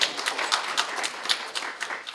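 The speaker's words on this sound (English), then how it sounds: "we need to clap it up for you all here" An audience claps at a campus commemoration of the San Francisco State strike and ethnic studies, with sharp, distinct hand claps rising and falling unevenly over a few seconds at moderate volume.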